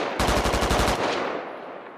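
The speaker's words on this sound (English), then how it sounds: "They were shooting at infantry." Machine gun fire in the video game Squad: a rapid, loud burst of shots lasting under a second, followed by a fading echo with no talk.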